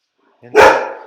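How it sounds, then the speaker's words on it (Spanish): A pet dog lets out a single loud, sharp bark close by after a short softer lead-in. "Como pueden escuchar, mi perro ya empezó."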